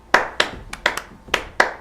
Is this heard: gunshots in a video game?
no